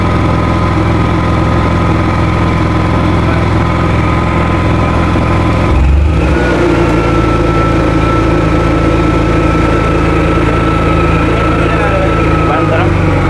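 A Honda EU70is inverter generator runs steadily under a 2600-watt load, a loud continuous engine drone with a brief shift in pitch midway, while someone speaks over it.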